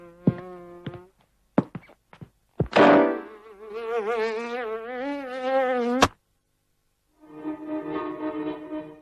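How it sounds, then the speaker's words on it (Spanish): Common housefly buzzing in a Ferenc Rofus animated film, a loud close wavering buzz that rises and dips, cut off abruptly, with short knocks before it and a second buzz after a brief silence. "narra el viaje de una mosca común"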